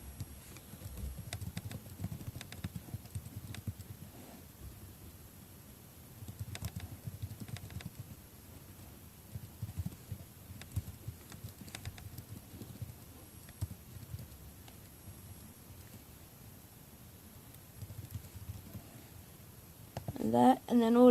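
Computer keyboard being typed on while writing a post on a website, with faint, scattered soft clicks in irregular bursts over a quiet room background, and a louder disturbance at the very end.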